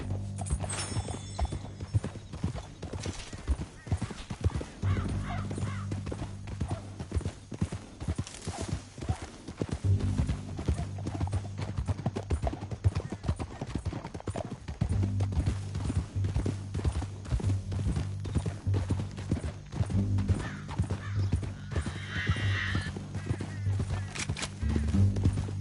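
Horses gallop in Red Dead Redemption 2, with rhythmic hoofbeats drumming steadily for the whole stretch, loud and close, joined by an occasional snort or whinny and low rumbling wind.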